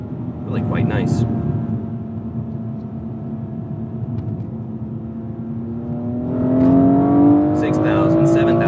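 A BMW M235i with a turbocharged engine pulls hard through the revs, its smooth, rising engine note climbing steadily and swelling louder near the end, heard from inside the car with some voice over it.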